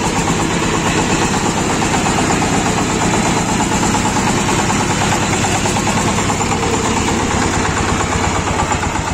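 A small engine idles steadily and loudly up close in winter cold, a continuous low chugging throb with vibration throughout and no talk.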